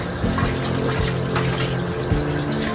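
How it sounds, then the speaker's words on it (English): Running tap water splashes over hands being washed in a kitchen, a steady close stream with small shifts as the hands move, no talking. "I'm just washing my hands again, drying it really well"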